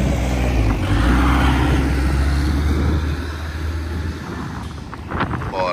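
A truck hauling a load of gypsum revs its engine with a heavy, loud low rumble that eases off partway through, mixed with wind buffeting and no talking.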